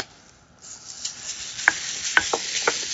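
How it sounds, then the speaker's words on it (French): Extra-lean ground beef browns in a nonstick skillet, its sizzle rising from near silence to a steady hiss, broken by a few sharp spatula clicks and scrapes close by. "Maintenant, je vais faire dorer ma viande. Dans un poêlon antiadhésif, j'utilise du bœuf haché extra maigre"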